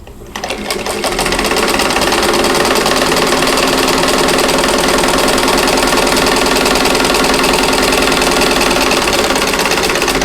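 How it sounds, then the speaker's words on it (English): A sewing machine stitching a diamond four-patch quilt piece runs steadily and loud, a fast continuous mechanical whir with rapid needle clatter that starts abruptly and holds for the whole stretch. "Flip it around and sew the other side."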